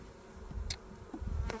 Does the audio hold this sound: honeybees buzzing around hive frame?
yes